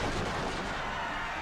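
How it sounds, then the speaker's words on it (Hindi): Rapid gunfire as colonial troops open fire on a crowd gathered in a walled garden at Jallianwala Bagh, a dense, continuous roar of shots with no gaps, loud and steady throughout. "डायर अपने फौजी दस्तों के साथ बाजार की ओर से बाग में दाखिल हुआ और बिना कोई चेतावनी दिए गोली चलाने का आदेश दे दिया"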